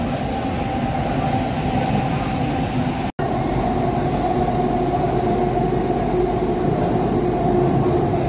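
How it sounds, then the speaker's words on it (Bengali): Kolkata metro train running on the Sector V to Sealdah route, heard from inside the carriage: a loud continuous rumble and hum with a momentary dropout partway through, no voices. "মেট্রোর ভেতর।"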